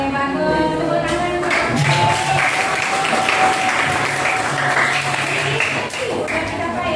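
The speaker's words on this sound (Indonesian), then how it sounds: "Tepuk tangan." Students clapping in a classroom, a busy, close wash of applause with voices mixed underneath and a faint tonal hum running through it.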